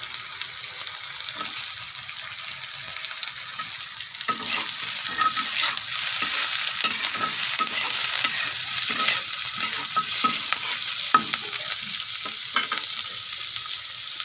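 Long beans and green chilies fry in a pan with a bright, hissing sizzle that grows fuller after a few seconds, punctuated by repeated stirring scrapes and taps of a spoon.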